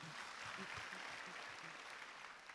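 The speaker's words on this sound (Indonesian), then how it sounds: "Saudara, tepuk tangan dulu buat Tuhan." A church congregation applauding, a faint, steady wash of clapping with low murmuring voices underneath.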